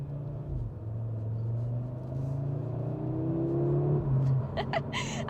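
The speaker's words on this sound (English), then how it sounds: "just what a racket this car actually makes" Audi RS3 engine rumbles at low revs with a steady exhaust drone that rises slightly before a few sharp higher-pitched bursts near the end, moderately quiet throughout.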